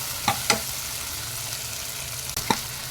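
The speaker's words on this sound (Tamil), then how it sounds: "இதையும் நல்லா வதக்கிடலாங்க. வெண்டைக்காய் நல்லா வதங்கணுங்க." Okra sautéing in a pan for a tamarind curry, a steady frying hiss with a few sharp stirring scrapes near the start and end, no speech.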